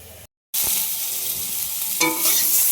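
Raw banana and fish curry is stirred in a hot pan, with close scraping and loud steady sizzling after a brief dropout, and a sharper stroke against the pan near the end.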